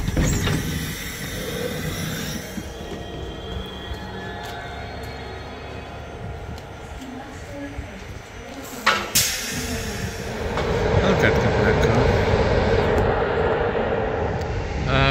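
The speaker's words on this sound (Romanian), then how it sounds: "așteptăm trenul Regio, care trebuie să treacă pe aici mai întâi." A train rumbles through Sighișoara station, undergoing modernisation, in Romania, with a long rolling clatter that builds and swells louder toward the end, and a sharp burst partway through; no talk over it.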